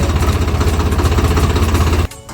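A tractor engine chugs in a fast, even thumping rhythm, loud and close, then cuts off abruptly near the end.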